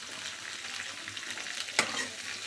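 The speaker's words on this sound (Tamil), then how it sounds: "நின்றுக்கிட்டு கிளறி விட்டுக்கிட்டே இருக்கலாம்." Bitter gourd sizzles steadily in a pan while being stirred, a continuous frying hiss with one sharp scrape of the spoon near the end; no voices.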